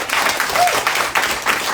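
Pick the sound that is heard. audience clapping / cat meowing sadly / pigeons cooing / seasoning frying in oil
audience clapping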